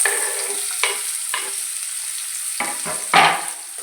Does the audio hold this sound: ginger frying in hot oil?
yes